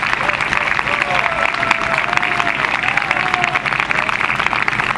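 Steady applause from a crowd following a contemporary music performance, continuous clapping with a sustained voice or cheer running over it.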